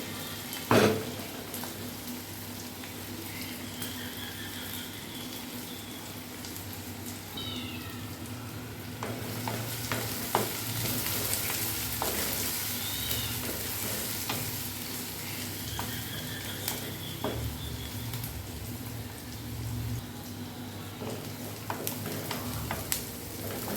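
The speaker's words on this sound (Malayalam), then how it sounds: "അതൊന്ന് ബ്രൗൺ ആവുന്നത് വരെ ഇളക്കി കൊടുക്കണം." Onions fry softly in oil for a Kerala-style squid curry, a faint continuous sizzle with occasional stirring clatters, while a cat meows a few times nearby.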